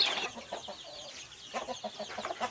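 A mother hen clucks in short bursts, with a few sharper calls and faint chirping of newborn chicks around it, fairly close by.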